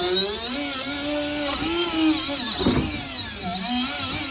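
A Milwaukee die grinder fitted with a buffing wheel whines steadily and close up, its pitch dipping and rising as the wheel is worked against a part while rebuilding Kinze finger pickup meters.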